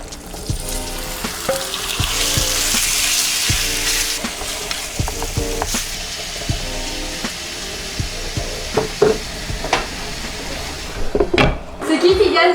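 Marinated meat sizzles and fries in a pan, a steady close hiss with clinks and stirring knocks scattered throughout and some voices nearby.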